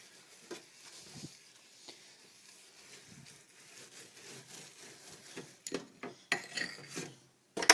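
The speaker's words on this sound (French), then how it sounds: "vous frottez comme ça en faisant des petits cercles sur tout votre évier" Someone scrubs a sink with a homemade natural scouring cream, working it in small circles. The scrubbing is soft and rasping at first and grows louder in the last few seconds. No one speaks.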